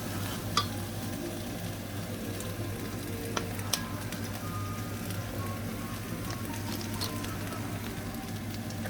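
Steady close sizzle of sautéing in a frying pan for Jollibee-style spaghetti, with occasional stirring clicks and scrapes over a constant low hum, no speech.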